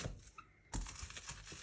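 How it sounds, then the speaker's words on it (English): A hand-held garlic crusher presses two garlic cloves for a turkey chili: a few faint clicks, then a sudden crunching squeeze that grinds on steadily to the end, close and without talk. "And 2 pieces of garlic with your garlic crusher"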